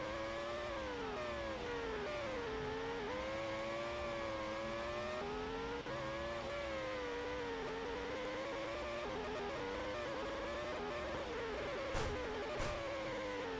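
A racing-game car engine drones steadily through a qualifying flying lap on the Baku street circuit, its pitch rising and falling with each gear and corner, loud and continuous, with a couple of brief sharp clicks near the end.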